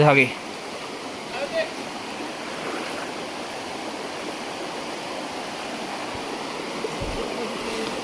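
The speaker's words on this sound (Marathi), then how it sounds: "वाहता पाणी स्वच्छ पाणी वाळाचा" Clear freshwater stream running steadily in a continuous broad rush, close by and alone, at a creek where crabs are caught.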